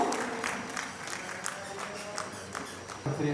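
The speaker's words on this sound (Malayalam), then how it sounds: "നല്ലൊരു കൈയടിയോട് കൂടെ നമുക്ക് അച്ഛനെ വേദിയിലേക്ക് സ്വാഗതം ചെയ്യാം" A crowd at a Madhuramveppu wedding-eve ceremony claps steadily to welcome a priest onto the stage, a moderately loud run of rhythmic clapping.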